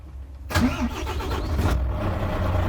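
A lorry's engine cranks and catches at about half a second, then settles into a steady, fairly loud idle close by, with no talking.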